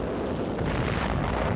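Artillery shells exploding during the WWII battle for Okinawa on the Shuri line, a dense continuous roar of blasts and rumble with no gaps, loud and booming throughout.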